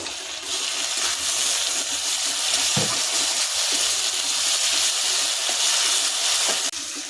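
Ginger, garlic and green chilli paste fries in a pan with browned onion for a stingray curry with potato and tomato, a loud, steady sizzle with a few faint knocks of stirring.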